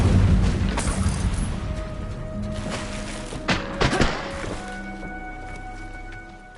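The Incendio fire spell cast in Hogwarts Legacy, a whooshing burst with thuds and crackling swells, loud and close, fading into a quieter magical hum with bright tones.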